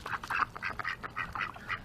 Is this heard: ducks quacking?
yes